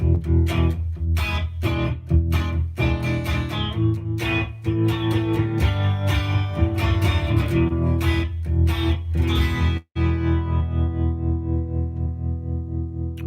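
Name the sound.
guitar through a short reverb sounding like a small room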